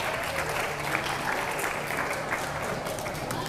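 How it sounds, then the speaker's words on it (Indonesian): Sustained applause from an audience at an Indonesian talk event, a steady even wash of clapping with a crowd murmuring under it, held at a moderate distance. "Tepuk tangan dong buat semuanya dulu."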